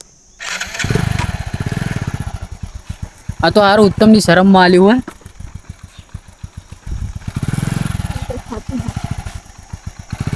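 A motorcycle engine starts and runs with a rapid, even putter close by, the revs rising as it pulls off. Someone talks loudly over it partway through.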